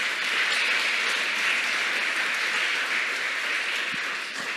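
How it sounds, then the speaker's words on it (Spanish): A church congregation claps together during a sermon, a dense, steady wash of applause that holds loud and even for several seconds before easing slightly at the end. "Vamos a darle un aplauso al Señor."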